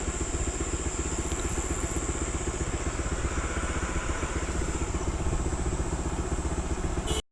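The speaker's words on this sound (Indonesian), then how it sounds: "motor saya pun kayak udah nggak sanggup nanjak lagi dia" A motorcycle climbs a steep, rough hill road in Bener Meriah, Central Aceh. The engine throbs loudly and close in a dense, continuous chug with no letup, and it stops abruptly at the end.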